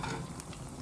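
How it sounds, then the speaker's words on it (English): Plantain frying in a pan on a home stove gives a steady hiss and crackle of hot oil, continuous and fairly close, with no voices over it. "frying plantain"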